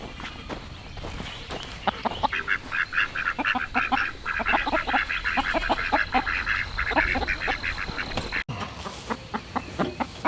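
Hens clucking and calling in a small cage on a homestead, a busy run of repeated short squawks and chatter close by, with rustling and shuffling underneath, continuing steadily until a brief break near the end.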